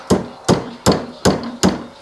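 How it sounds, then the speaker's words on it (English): A small hand hammer taps a RZR U-joint into place with five evenly spaced sharp metallic knocks, roughly two per second, close and clear with no talk. "you can just kind of hit it with a little hammer just like that, and then it will just snap on"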